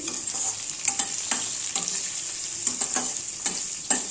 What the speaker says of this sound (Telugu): ఆనియన్స్, చిల్లీస్ వేసుకొని బ్రౌన్ కలర్లో ఫ్రై చేయాలి.